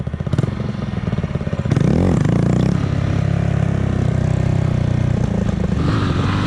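A Kawasaki Z125 small motorcycle ridden off-road buzzes along, then its engine suddenly revs loud and high during a wheelie attempt and holds a strained, rough drone, close by.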